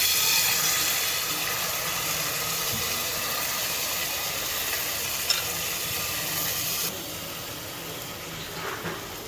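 Tadka tempering spices in hot oil in a pan for torka daal, making a loud, continuous frying hiss that holds steady and then drops slightly near the end, with no talking.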